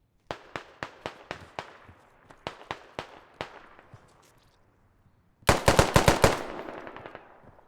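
Gunfire in a military shooter game crackles in rapid rhythmic bursts, a string of sharp single shots followed after a pause by a louder, denser volley, with no voices over it.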